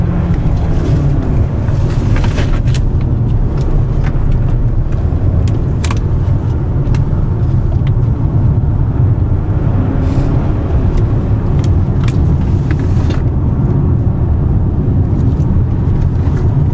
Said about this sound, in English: that turbo engine provides lots of power for going around the corners,